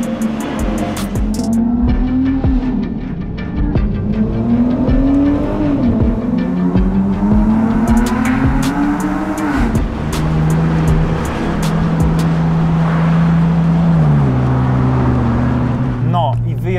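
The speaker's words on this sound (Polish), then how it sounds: "A skoro tunele, to wiadomo, nie mogliśmy sobie odmówić posłuchania naszych samochodów w takich okolicznościach." Loud car engines roaring and echoing through the tunnels of the Stelvio Pass: sustained revving that rises and falls with gear changes, booming and reverberant up close, with people talking over the engine noise.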